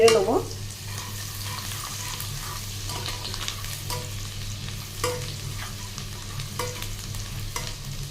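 Garlic frying and being stirred in a pan for restaurant-style chilli chicken, a steady close sizzle with a spatula scraping at intervals and a louder burst at the start.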